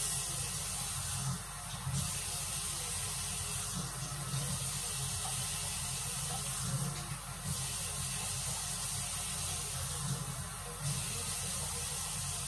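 Water pouring into a French press for homemade cold brew, a steady close hiss and splash that runs throughout with a few slight pulses in strength, no talk.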